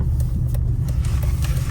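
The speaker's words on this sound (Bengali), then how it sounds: "আমি গাড়িটা ঘুরাই ফেলবো" A car's engine hums as a low, steady rumble heard from inside the cabin while it is being turned around during a first-ever drive, with no voices over it.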